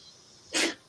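A single short, sharp sneeze bursts out at close range, brief and forceful, amid a quiet background.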